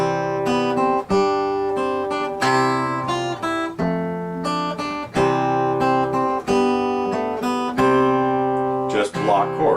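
Guitar strums block chords for the hymn In Christ There Is No East or West, full chords struck in a steady rhythm with brief gaps between phrases, close and prominent, no voices.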